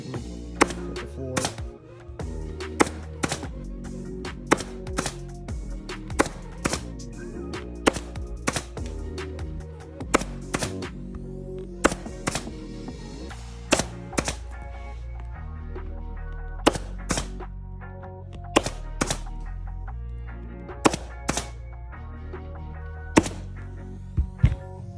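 A staple gun shooting staples into the cloth seat covering of a 2015-2020 Ford F150 or 2017-2021 F250/350 crew cab truck, firing a long run of sharp, close, loud snaps at an irregular rhythm over a low background hum.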